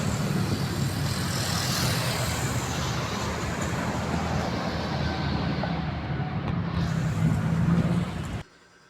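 Steady vehicle traffic rolls across Jones Bridge in Manila at night, a continuous broadband roar of passing cars and engines that cuts off abruptly at the end.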